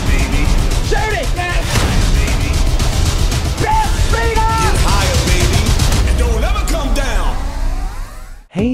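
Gunfire rings out in a frantic scene from the film Cocaine Bear, loud and continuous under urgent shouting voices, ending in an abrupt cut.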